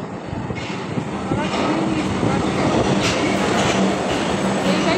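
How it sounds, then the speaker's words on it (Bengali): A metro train rushes into Rabindra Sadan station in Kolkata, a loud, steadily building rumble and rail roar with faint wheel squeal, close by on the platform, with a brief voice in the background. "ট্রেনটা আসছে"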